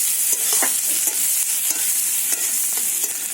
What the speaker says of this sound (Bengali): আমি একটা মিডিয়াম সাইজের পেঁয়াজ কুচিয়ে রেখেছিলাম সেটাকে দিয়ে ভালো করে একটু ভাজা ভাজা করে নেব